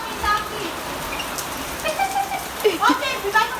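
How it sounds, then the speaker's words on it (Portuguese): Steady rain falls in a house corridor, a continuous wash of patter with scattered drops, while children's voices and chatter rise faintly over it. "aqui no corredor tá chovendo"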